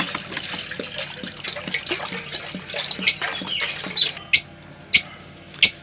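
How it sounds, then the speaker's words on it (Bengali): Water is poured into a container for birds, a busy trickling splash that thins out into a few separate, distinct drips near the end. "পুরো জলটা ঢেলে দিলাম"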